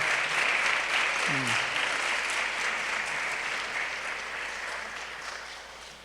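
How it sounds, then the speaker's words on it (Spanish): Audience applause at a Spanish-language gathering: a steady crowd of hands clapping throughout, slowly fading toward the end, with a brief voice audible early on. "quiero que se den un aplauso a ustedes por ese motivo"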